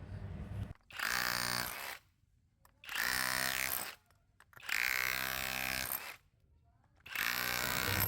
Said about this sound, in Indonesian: Kita akan ngebobok lagi menggunakan mode ngebobok ya, atau mode pukulan impact-nya saja